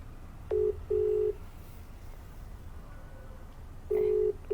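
An outgoing phone call rings unanswered, with two short paired ringback tones near the start and another pair near the end, each steady and clear over faint background hiss, with no voices.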